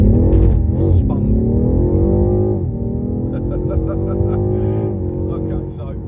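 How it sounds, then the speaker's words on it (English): A BMW F90 M5 accelerating from a stop with wheelspin: a loud, close engine roar that rises in pitch and briefly dips as the tires break traction, with people talking over it. "by about 60 we hooked up, but we first broke traction there at around 20 mile an hour"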